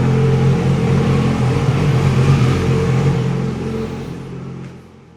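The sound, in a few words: 2006 Yamaha R6 motorcycle engine revving after throttle fix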